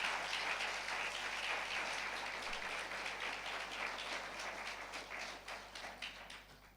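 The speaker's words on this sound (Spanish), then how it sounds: "¿Cuántos le dan un fuerte aplauso al Señor?" A church congregation claps together for the Lord, a dense, fairly faint patter of many hands that runs steadily and thins slightly toward the end, with a low hum beneath.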